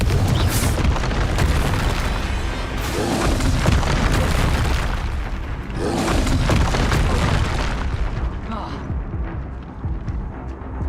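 Confringo spell explosions in Hogwarts Legacy, loud booming blasts rolling one after another with dense continuous rumble and game noise throughout.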